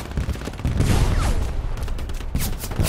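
Rumbling explosions and crackling gunfire from an airstrike in a first-person shooter video game, a dense, continuous barrage of blasts filling the whole stretch with no clear gaps.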